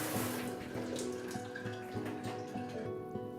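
A faucet runs steadily into a basin, a close, continuous splashing stream with no voices.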